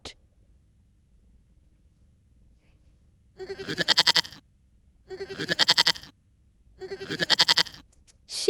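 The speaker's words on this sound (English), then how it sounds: "Goat." A goat bleats three times in a row, each call a harsh, quavering burst separated by brief gaps.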